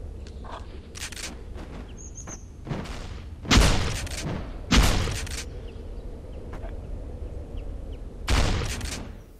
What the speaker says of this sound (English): Because I'm shooting a miner gun